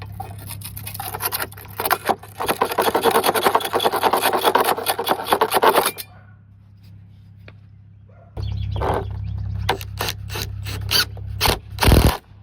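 Metal pins driven into a worn plastic anchor left in a brick mortar joint, first a sustained rasping, grinding scrape for several seconds, then a pause and a run of sharp, separate knocks and taps, close and fairly loud.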